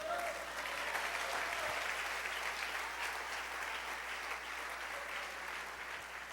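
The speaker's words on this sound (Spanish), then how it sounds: "Dale ese aplauso a la gloria de Dios." A church congregation claps in loud, sustained applause that holds steady for several seconds, with a faint voice underneath.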